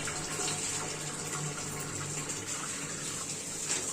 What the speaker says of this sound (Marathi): बघा याप्रमाणे स्वच्छ पाण्यामध्ये धुवून घेतले